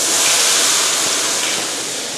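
Batter-coated carrot and vegetable clumps frying in hot oil for a Thai battered salad, a loud, steady, close sizzling hiss that carries on alone throughout.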